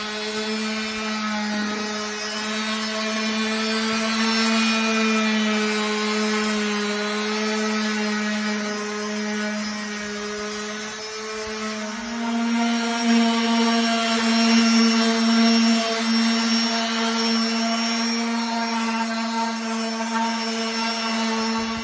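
A continuous high-pitched orbital sander whirs steadily for the whole stretch, shifting slightly in pitch partway through, with a grinding hiss on a walnut slab.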